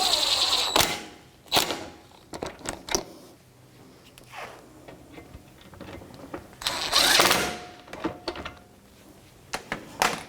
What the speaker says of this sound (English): Then I'm going to snug it up with a 12mm socket.